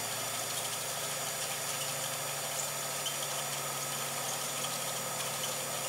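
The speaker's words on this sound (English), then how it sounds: "It might not last long, this motor" A small motor runs steadily with a dense mechanical whir and buzzing vibration that climbs in speed, close and constant throughout with no talking.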